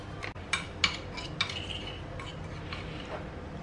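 Spoon stirring dry instant coffee powder into a dry mix for coffee coconut-milk jelly, giving a few light clinks and scrapes against the bowl that fade into soft rustling.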